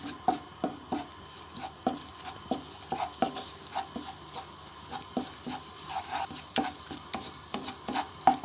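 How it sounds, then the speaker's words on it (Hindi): Maida flour being lightly roasted in oil in a kadhai over medium-low flame, with a steady run of soft scraping and stirring strokes close up and a faint sizzle underneath, no voices. "इसे हम हल्का सा रोस्ट करेंगे ऑयल में।"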